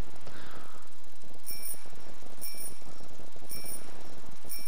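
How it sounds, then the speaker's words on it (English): A bicycle bell in the video game DayZ rings in repeated bright metallic chimes about once a second, over a clicking, ratcheting mechanical rhythm from the bike. "Tell me if you hear a bell."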